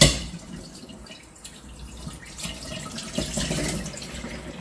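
Tap water runs and splashes into a bowl where shellfish are set to soak, a steady close-up trickling hiss that swells slightly as the bowl fills.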